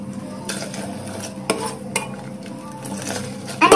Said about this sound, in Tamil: ரொம்ப நேரமா நான் இதை கழுவிட்டே இருக்கேன் இன்னும் அது திக் ஆகல